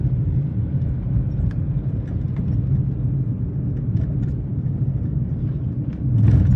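A big car's engine idling, a steady low rumble held close and constant, swelling slightly louder near the end.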